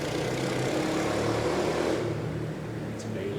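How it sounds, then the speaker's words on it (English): Loud motorbike passing by outdoors, a rough engine drone that builds and holds strong, then eases off as it moves away. "it's very loud, motorbike"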